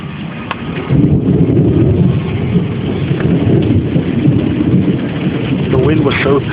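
Heavy thunderstorm in August with steady loud rain and rumbling thunder filling the whole stretch, strong winds gusting, recorded from behind a door close to the downpour.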